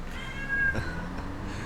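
A cat whines and meows softly over steady background noise, with a brief higher-pitched cry in the middle.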